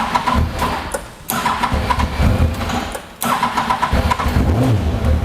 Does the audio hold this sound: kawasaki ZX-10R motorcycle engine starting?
yes